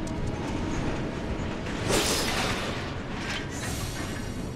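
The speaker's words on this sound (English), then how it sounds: "if you're on the train tracks, the trains won't spawn, but the sounds do" Train rolling along tracks in the Final Fantasy VII Remake video game, a steady broadband rumble with rail clatter that swells briefly midway and holds at a constant level with no talking.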